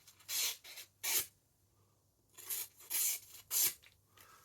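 A blade is rubbed across a sharpening stone after a chip repair, in separate rasping strokes. The strokes come in short bursts with brief pauses between them, close and fairly soft.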